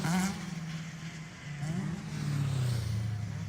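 A Cadillac Blackwing race car drives on the Mid-Ohio track during a Hoosier Super Tour qualifying session, its engine droning steadily at mid distance with gear shifts and rising revs, slightly muffled.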